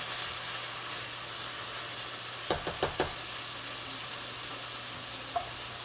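Spaghetti frying in a pan with a steady soft sizzle, interrupted by a quick cluster of utensil scrapes and knocks as it is stirred, plus one later tap.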